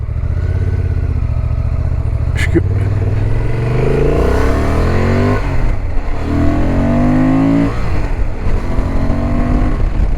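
Motorcycle, a BMW F900R or Yamaha 600XT, pulling away quickly on a rural departmental road in northern France, its engine roaring loud and close as it climbs through several gear changes, with brief dips between shifts.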